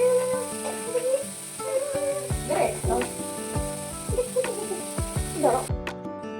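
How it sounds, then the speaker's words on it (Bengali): Rice frying in a pan, a steady sizzle with scraping stir strokes and clinks repeating throughout, close and alone with no talk. "এই যে দেখো, ভাত ভাজা আমার হয়ে গেল।"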